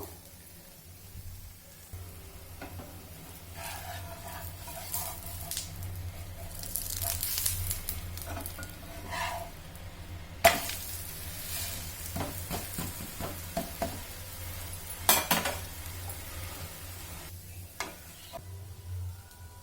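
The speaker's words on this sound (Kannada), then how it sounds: "ಗ್ಯಾಸ್ ಸಿಮ್ಮಲ್ಲಿಟ್ಟು ಬೇಯಿಸ್ಕೋಬೇಕು. ದೋಸೆ ಚೆನ್ನಾಗಿ ಬೇಯಬೇಕು." Sprouted-gram dosa cooking in a pan over a low gas flame, with a soft steady sizzle and occasional clicks and scraping from a spatula nearby, fairly quiet throughout.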